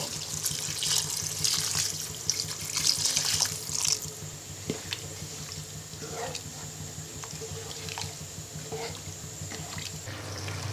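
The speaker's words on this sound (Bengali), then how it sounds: "এবার পরিমাণ মতো পানি দিয়ে" Water pours from a vessel into a pan of cauliflower and potato curry, a loud splashing rush for about four seconds that then gives way to quieter drips and soft clinks close by.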